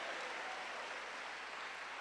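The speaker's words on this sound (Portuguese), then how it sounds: "Se você crê, dê um brado de vitória e aplauda Jesus." A church congregation applauds together in steady, dense clapping that fills the space evenly, with no voices standing out.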